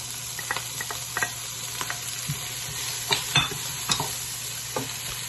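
Garlic scapes hit a hot frying pan in a simple home dinner, a low steady sizzle under scattered scraping stirs and light utensil clacks, close up and with no one talking.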